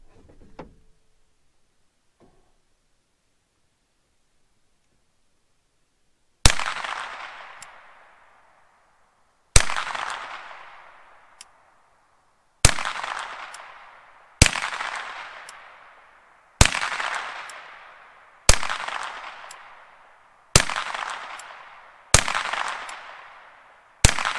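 A handgun fires at a target at an outdoor range: after a few seconds of quiet, eight loud sharp reports ring out one by one at irregular intervals of roughly one to three seconds, each with a short echoing decay.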